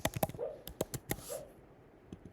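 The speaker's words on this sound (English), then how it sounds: "That's my dog in the background sleeping." A pet dog somewhere in the room gives a few short, soft yips and whimpers among quiet clicks and thumps, brief and close but low in level.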